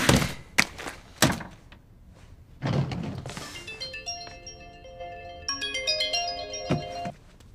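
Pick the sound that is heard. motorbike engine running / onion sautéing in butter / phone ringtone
phone ringtone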